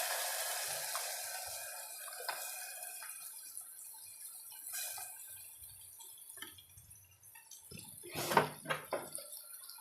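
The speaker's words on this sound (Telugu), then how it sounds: "ఇందులో ఇప్పుడు కాసుకున్నటువంటి మజ్జిగ చారు ఏదైతే ఉందో అది పోసుకుందాం" Buttermilk stew is poured into a pot, a gurgling liquid stream running near the microphone, with light clinks of utensils and a louder splashing burst toward the end.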